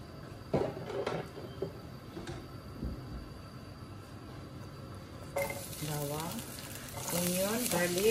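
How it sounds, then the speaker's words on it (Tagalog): Minced meat dropped into hot olive oil in a pan starts a loud, continuous sizzle partway through, after quieter kitchen clatter, with a voice speaking over the frying. "We're going to cook the minced meat now."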